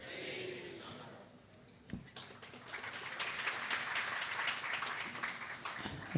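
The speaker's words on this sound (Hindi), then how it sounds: "मुझे लगा मैं कोई राजनेता हूँ सबने तालियां बजाई" Audience at a devotional gathering breaking into applause, a moderate, fairly distant patter of clapping that builds after a short lull and holds steady, with no talk over it.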